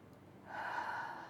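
Audible breath during an emotional tapping exercise, a single soft, drawn-out exhalation rising after a quiet start and holding steady, close and gentle with no talk.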